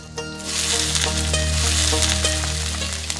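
Onion dropped into hot oil in a pan on a stove fries with a loud, dense, steady sizzle that swells quickly and holds throughout, close to the mic with no talk.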